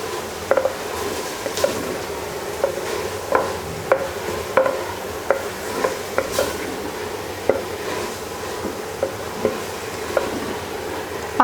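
Fried minced meat stirred in a pan with chili garlic sauce. A spoon scrapes and taps the pan in repeated irregular clicks over a soft sizzle, close and steady throughout, with no voices.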